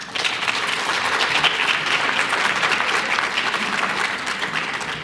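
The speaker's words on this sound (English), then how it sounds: "students, I think you owe your parents a round of applause as well" An audience at a high school recognition ceremony gives sustained applause for parents, a dense, even wash of many hands clapping with no speech over it.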